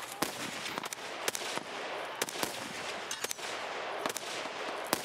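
Gunfire exchanged between players and scavs in Escape From Tarkov, sharp distant shots in irregular single cracks and short bursts over a low ambient background.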